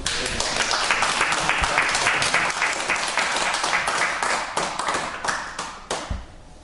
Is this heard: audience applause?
yes